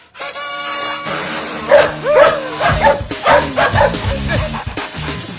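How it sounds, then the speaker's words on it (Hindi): Dog barks and yips from a dog inside a car, several sharp repeated barks with whimpering over a sustained musical background, fairly loud and close. "अबे कुत्ते, गाड़ी के अंदर बैठ के भौंक रहा है,"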